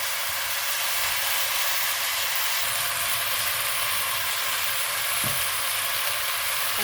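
Curry chicken with fried carrots sizzling steadily in a hot pan, a loud, continuous broadband frying hiss close by, with a brief stirring knock partway through and no talking.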